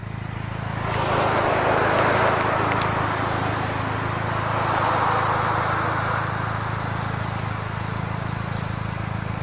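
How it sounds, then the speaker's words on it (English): A Toyota MR2 Turbo engine idles with a steady low hum and a broad whooshing exhaust rush that swells slightly and fades, close by, no voices. "You can hear the engine purring."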